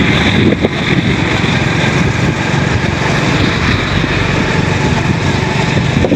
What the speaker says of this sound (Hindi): दरिया सिंध की पुल से गुज़र रहे हैं और बहुत प्यारी और ठंडी हवा चल रही है।